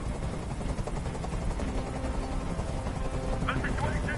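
A helicopter in the video game Detroit: Become Human gives a steady rotor drone throughout. The chop is masked by dense game sound and faint voices, with a brief tonal effect near the end.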